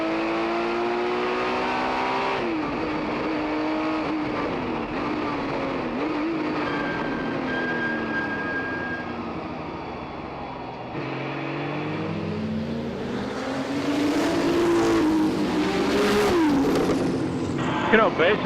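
1979 Porsche 935 race cars at a reunion race, engines roaring and shifting pitch as they pass, loud and continuous under a commentator's voice.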